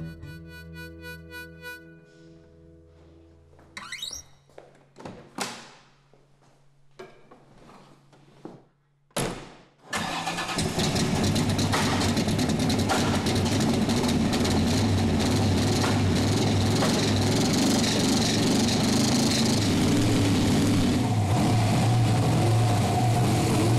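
A 1965 Chevrolet Corvette C2 Stingray coupe in Bahama Blue cranks over, fires up and settles into a loud, continuous close-up V8 rumble after a few thunks and scattered sounds at the start.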